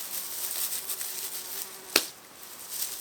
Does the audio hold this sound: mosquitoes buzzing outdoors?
yes